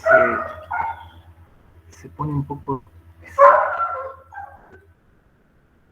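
A pet dog barks and yips in short bursts several times indoors, close by, interleaved with someone speaking Spanish.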